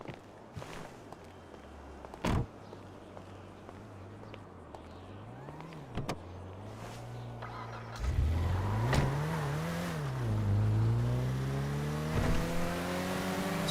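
A car driven during a video game crime mission, its engine humming steadily, then revving and accelerating louder in the second half with rising and falling pitch, with occasional thumps and no talk.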